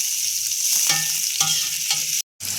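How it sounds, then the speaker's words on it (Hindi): Finely chopped onions, about 100 grams, frying in a pan for biryani: a steady, loud sizzle with occasional stirring scrapes, briefly cutting out near the end, no talking. "अब हम प्याज को लाइट गोल्डन फ्राई होने तक तलेंगे।"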